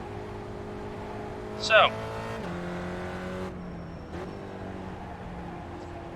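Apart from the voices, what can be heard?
Spec Racer Ford Gen3 engine shifting into sixth gear, iRacing video game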